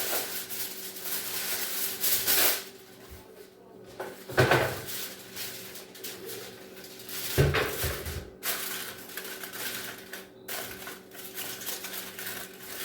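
A foil-covered Thanksgiving leftovers casserole dish slid into a preheated oven, with metallic clanks of the rack and dish plus an oven door thump over a steady background hum, close and moderately loud.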